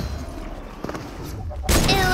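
A sniper rifle no-scope shot in a gun game video game, heard as one sharp loud crack near the end, with a player's voice and game noise around it.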